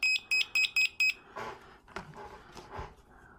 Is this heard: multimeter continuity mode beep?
yes